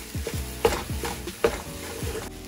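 A spoon stirs soy sauce into beaten egg in a frying pan for egg fried rice, a soft sizzle running underneath as several scraping strokes land in a loose rhythm, close by, with no voices.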